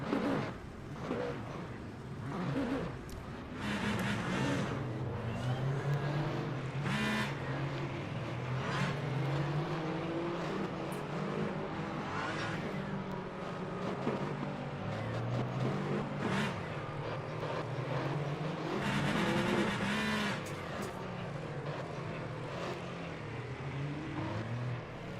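Race cars rumble through a formation lap in the sim racing game Le Mans Ultimate, steady engine drone with rising and falling revs and occasional louder passes, mid-level throughout.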